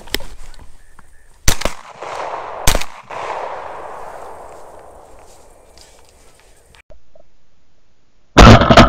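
Shotgun blasts fired into the air at doves during a Mississippi dove hunt, a few sharp loud reports spaced apart with open-field background noise between them.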